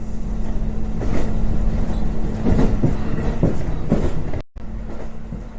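A Rumoi Line train runs steadily past the site of a former station, a continuous rumbling roll with faint clattering from the wheels and a low engine hum, with no talk over it.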